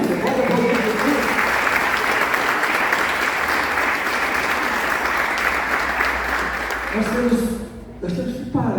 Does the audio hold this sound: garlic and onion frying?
no